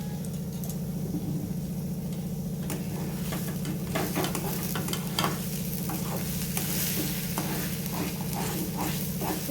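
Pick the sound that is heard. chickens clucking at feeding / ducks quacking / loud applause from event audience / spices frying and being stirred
spices frying and being stirred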